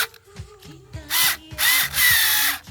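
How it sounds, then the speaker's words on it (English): A cordless screwdriver runs in several short whirring bursts that lengthen into longer runs, close and fairly loud, after some quieter handling clicks and rattles. "cordless screwdriver."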